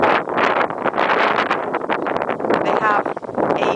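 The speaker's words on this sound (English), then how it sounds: "It's kind of windy." Strong wind sweeps across open kibbutz farmland, buffeting the microphone with a continuous loud, gusty roar that rises and dips throughout.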